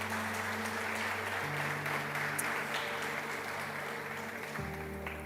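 A church congregation claps steadily and fairly loudly for several seconds under a sustained musical tone during a sermon, with no talking.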